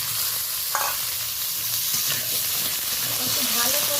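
Potatoes and eggplant are stir-fried with whole-spice tempering in hot oil, giving a steady loud sizzle and hiss with occasional scraping stirs of a spatula throughout.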